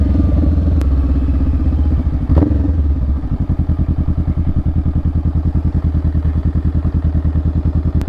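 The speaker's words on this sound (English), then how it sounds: "pulling in your clutch, shifting down." A motorcycle engine revs, then drops to a lower, steady pulsing idle after a clunk of a gear shift, close and loud.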